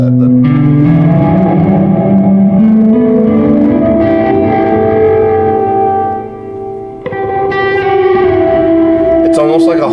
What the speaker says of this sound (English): It's almost like a hall reverb without like the spiky high end.